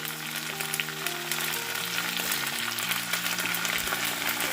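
Onion and chopped green chilli fry in hot mustard oil in a wok alongside fish, giving a steady, close, moderately loud sizzle that runs unbroken with faint tonal hum underneath and no talking.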